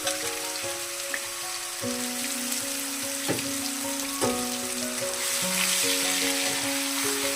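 Ginger, onion and garlic paste sizzles in hot oil in a pan for a Bengali-style chili chicken, a steady close frying hiss running throughout beneath a sustained tonal melody.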